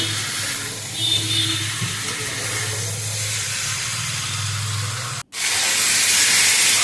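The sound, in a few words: hot water poured into hot mutton stew pan, hissing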